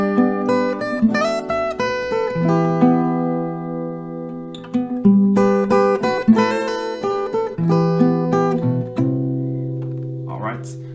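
Acoustic guitar picking a melody, with chord notes filling in beneath the main tune: clear plucked notes ringing and overlapping in close, steady phrases, played alone.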